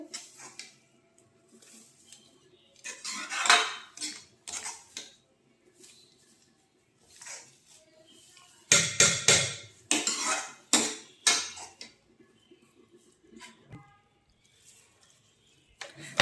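Hot homemade herbal shampoo mixture is mashed in a metal cooking pot, with bursts of clattering, scraping and clinking of utensil against the pot, separated by quiet pauses, close up.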